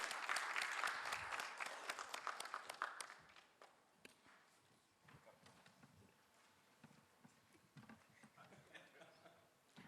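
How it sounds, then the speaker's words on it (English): An audience at an insurance summit in India gives a round of applause, loud dense clapping for about three seconds that thins into scattered claps and faint room murmur. "Can we have a massive thunder round of applause for all of them?"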